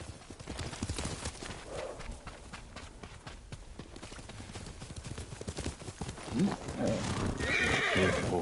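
In the video game Ghost of Tsushima, a horse's hooves clop in a steady rhythm, followed by loud, close whinnies toward the end. Voices are heard at moments under the hoofbeats.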